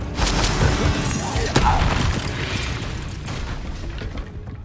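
A Bombarda explosion spell in Hogwarts Legacy bursts with a sudden loud boom and shattering crack, followed by debris rumble fading away, while a voice speaks over the start.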